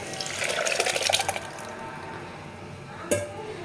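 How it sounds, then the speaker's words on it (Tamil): Lentil cooking water is poured into a Tamil turkey berry curry with onion and tomato, giving a close, splashing pour for about a second and a half, then a brief second splash near the end. "இப்போ வந்து பருப்பு தண்ணி ஊற்றிக்கலாம்."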